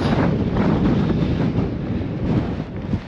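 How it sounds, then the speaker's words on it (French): Strong wind buffets the microphone on an exposed ridge on Fogo in a loud, continuous roar that swells and eases slightly, with no other sounds standing out. "Il y a vraiment plein de vent, hein."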